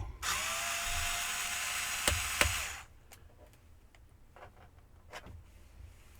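An electric screwdriver whirs steadily for a few seconds while screws are removed from an Acer ES1 512 laptop, then stops, followed by faint handling clicks.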